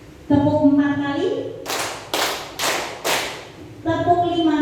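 Four sharp group claps ring out from a class of adult participants in a teacher workshop, evenly spaced and loud, with a voice speaking before and after.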